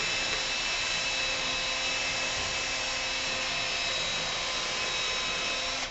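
Plastic headlamp lens being sanded with sandpaper, a continuous loud, even hiss of abrasive scrubbing that holds steady for about six seconds without pause.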